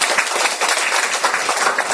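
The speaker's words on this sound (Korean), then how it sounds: "박수 한번 먼저 보내주시고요" Audience applause fills a lecture hall during a Catholic talk on Don Bosco and the Salesians, a dense, steady wash of many hands clapping at fairly close range with no speech over it.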